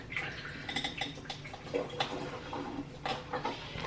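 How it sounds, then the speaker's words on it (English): Canned chickpeas being drained in a kitchen, liquid splashing and dripping with metallic clinks of the can and utensils in quick irregular bursts. "So I'm just gonna drain the chickpeas"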